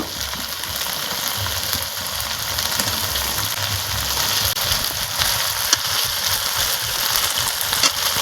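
Washed chicken frying in hot spiced oil for a large chicken curry, a loud continuous hiss and sizzle with a bubbling low rumble, sustained and close without pause.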